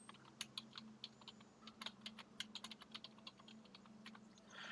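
Someone types a chat message on a computer keyboard, quick irregular clicks that come close together and then pause, faint over a low steady hum.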